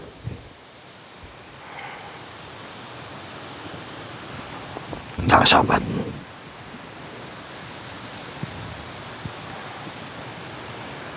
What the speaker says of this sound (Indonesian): Ini air terjun. Sangat curam.